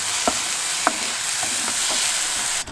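A spoon stirs dal as it dry-roasts in a hot pan. A steady sizzling hiss runs underneath a few soft scraping strokes, close and fairly loud, with a clatter at the end.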